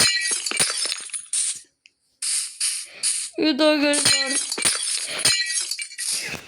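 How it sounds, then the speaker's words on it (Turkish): Glass windows shatter in a rich-and-poor house video game, several sharp crashing and tinkling bursts in quick succession, with someone speaking between them. "La bu cam kırılma sesleri de nereden geliyor?"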